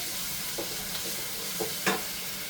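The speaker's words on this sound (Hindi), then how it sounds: "ये मेरे पास कुछ बादाम है, ये डाल रही हूँ। इसको साथ ही भूनेंगे।" Almonds and garlic-ginger paste fry in a pan with a quiet, even sizzle, marked by two or three soft stirring scrapes and a brief louder clink near the end.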